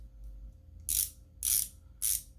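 A DSBYKJ 1/4-inch ratchet wrench gives three separate bursts of bright, rapid clicking, each about half a second long, heard close up and alone over a low background hum.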